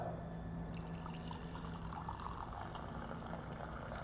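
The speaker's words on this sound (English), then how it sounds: "So I'm gonna pour a cup." Freshly brewed coffee is poured from a brewer into a cup, a continuous liquid stream trickling steadily for several seconds, close and moderately quiet, with no talking.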